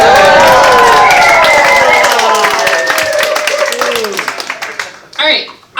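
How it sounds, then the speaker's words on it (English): A conference crowd at a summit opening session claps and whoops, with shouting voices over scattered hand claps. The noise swells loudly and then tapers off over about five seconds. "I expected a little bit more cheers and applause"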